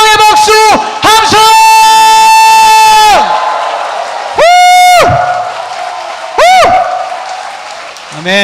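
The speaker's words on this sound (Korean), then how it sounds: "우리 살아계신 하나님께 더 큰 감사와 영광의 박수 함성!" A church congregation at a lively worship service claps and cheers loudly. Sharp, high whoops and shouts rise repeatedly over dense applause, with several distinct cheering bursts that come and go.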